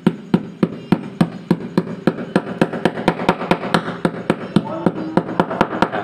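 A hammer strikes a nail for a refrigerator ground wire in a steady, rapid series of sharp metallic taps, roughly four to five blows per second, loud and close, over a low background hum.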